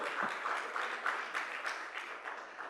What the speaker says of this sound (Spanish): regálenle un aplauso a mis hermanos